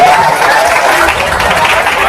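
A church congregation applauds after a pastor's sermon, steady crowd clapping filling the whole stretch at a loud, even level with some chatter mixed in.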